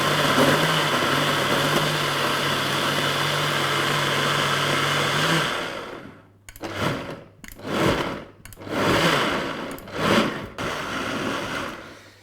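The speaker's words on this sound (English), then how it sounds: "let's blend this up and see what happens" A countertop blender purees cauliflower with water, a loud steady motor whir that cuts off about halfway through, followed by several shorter pulsed bursts.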